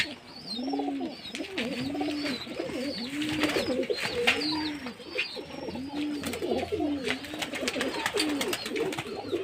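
A flock of domestic pigeons, adults and young birds kept at a home loft, coos steadily and close by in repeated rolling calls that overlap one another throughout.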